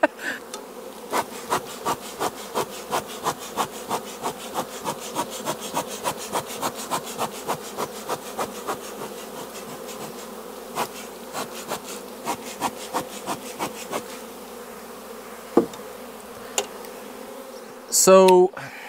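Honey bees buzz steadily as they are shaken into a box during a swarm capture, close and continuous, with a regular run of sharp knocks and taps against the box through most of it and a louder scrape near the end.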